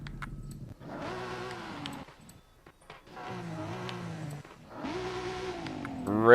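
Car engine in a racing video game, fitted with an upgraded exhaust and intake, revs hard in three long, loud pulls with brief dips between them, rising and falling in pitch with no talk over it.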